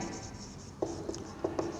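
Chalk or marker taps and strokes on a board during a seventh-grade maths lesson, a few short sharp scratches spaced irregularly over quiet room tone.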